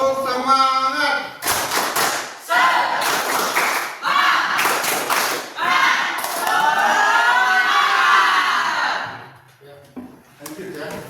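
A group claps the 'tepuk semangat' chant rhythm, bursts of sharp synchronized claps alternating with loud chanted voices, ending with a cheer and then quiet.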